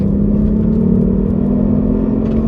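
A 2019 Ford Fiesta ST-3 engine drones steadily with a low, constant hum, building slightly as the car speeds along under a launch-control start; no voices.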